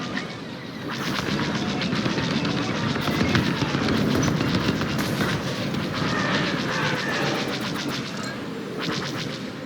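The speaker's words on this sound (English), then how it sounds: "Use your ion missiles against the shields." Ion missiles strike a carrier's shields in the space-combat game Star Wars Squadrons, a dense, continuous barrage of booming impacts and crackling bursts with rapid ticking fire pulsing over it, loud and steady throughout.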